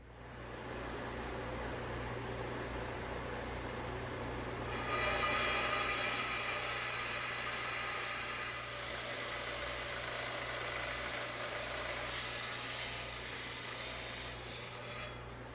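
A rock saw grinds steadily through an Aquascalientes agate from Mexico, giving a continuous raspy, buzzing cut over a low motor hum that grows slightly louder partway through and holds with no talking.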